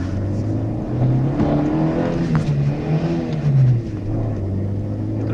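A car in GTA V Online accelerates, its engine revving with rising harmonic tones that fall back between gear changes, loud and steady throughout with no talk.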